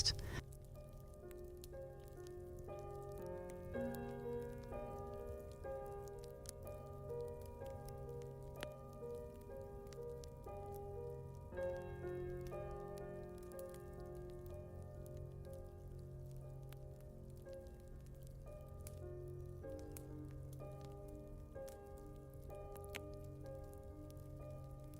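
Soft, steady rain patters continuously beneath gentle, slow tonal music in a cozy bedtime setting, with no voices.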